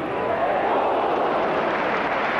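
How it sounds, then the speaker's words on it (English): A football crowd at Everton against West Bromwich Albion lets out a steady, broad 'ooh' as a shot flies over the bar, a dense roar of many voices that holds level throughout. "it drew an ooh from the crowd"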